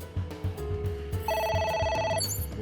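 A telephone rings with steady bright repeated tones inside the video game AI: The Somnium Files, heard over low music with a rhythmic beat, lasting about a second before cutting off.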